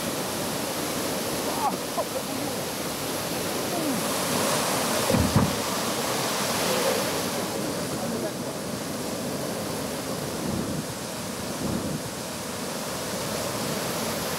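Class 3 whitewater rapids with category 4 passages roar through a natural gorge on a canoe-kayak course, a steady broadband rush of water with occasional splashes and gusts.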